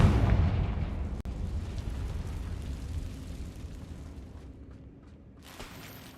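A Confringo fire spell going off in the video game Hogwarts Legacy, a heavy, booming blast with a deep low rumble that starts loud and slowly fades over several seconds.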